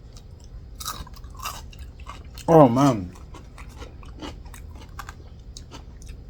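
Crunchy cucumber slices from a stir-fried udon dish being bitten and chewed, giving one short loud crunching burst in the middle amid faint background noise, with a brief voice speaking.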